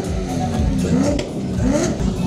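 Prototype car engine revving on a city street, a moderately loud, rising and falling mechanical roar with people talking nearby.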